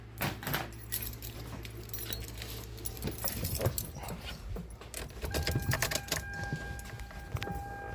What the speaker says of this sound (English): So let me get the keys.